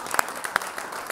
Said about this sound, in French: Alors, on peut vous applaudir.